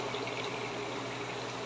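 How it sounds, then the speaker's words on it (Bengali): Chicken frying in a pan, a steady close sizzle with a dense bubbling crackle that holds evenly throughout. "মুরগির আমার ভাজা হইতেছে"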